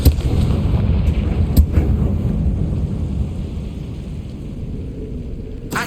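A Confringo blast spell goes off in Hogwarts Legacy with a loud booming explosion, followed by a long rumbling decay that fades slowly and has a few sharp cracks mixed in.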